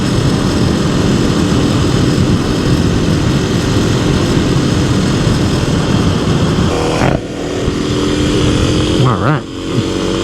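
Kawasaki KLX300 dirt bike (2026, Race Tech 6.4kg spring) rolling through turns on a road test, a steady loud engine drone close by that dips briefly near the end, with talking over it.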